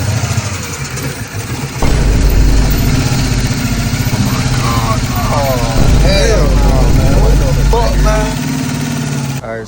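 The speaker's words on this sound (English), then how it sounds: "Went to go start it, and she had a hard misfire." A HEMI engine with a hard misfire starts up after a short lead-in and runs loudly and steadily close by, a continuous rumbling drone with an uneven, stumbling pulse and higher mechanical whine through it.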